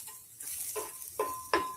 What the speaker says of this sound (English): Ooh, I love that sizzle.